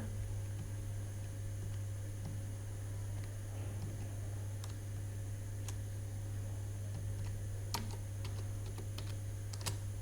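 Keystrokes on a computer keyboard as a command is typed into an Ubuntu 24.04 terminal while installing Node.js and npm, a soft, irregular run of light clicks over a steady low electrical hum.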